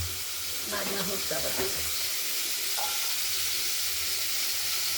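Pieces of katla fish fry in hot oil in a kadai, making a soft, even sizzling hiss with a few faint scrapes and murmurs early on.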